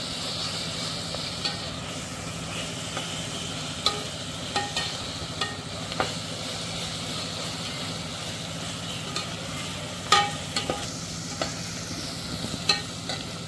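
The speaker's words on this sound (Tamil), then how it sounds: "இதை நல்லா வதக்கிட்டே இருங்க, பச்சை வாசனை போகிற வரைக்கும்." Ginger garlic paste stir-frying in a pan while cooking chicken dum biryani: a steady close sizzle runs throughout with occasional light scrapes and clicks of a spatula, and no voices.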